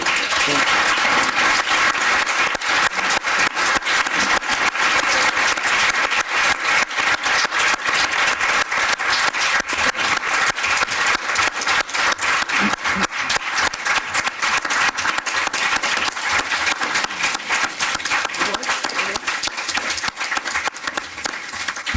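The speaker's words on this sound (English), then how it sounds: "a big applause to Sri Sri" A large audience at a meditation event in Brussels giving sustained, dense applause. The clapping stays loud and even for over twenty seconds, with no speech.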